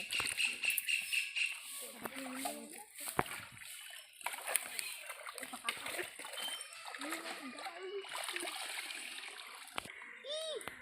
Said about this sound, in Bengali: আমরা পুকুরে নেমে গেছি এবার আমরা মাছ ধরবো